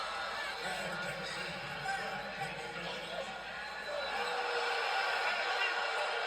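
Crowd at a Tennessee versus Florida Gators college basketball game reacting to a call, a broad murmuring roar that swells toward the end beneath a commentator's voice.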